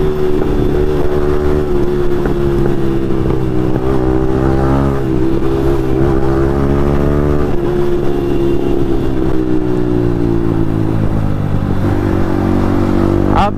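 A Yamaha MT-15 motorcycle fitted with an Akrapovic exhaust, ridden in a street race against an R15M, droning loud and steady with rising and falling revs as it accelerates and shifts, exhaust tone close and constant throughout.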